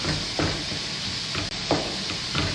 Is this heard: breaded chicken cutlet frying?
yes